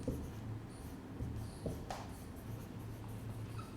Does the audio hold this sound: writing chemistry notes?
yes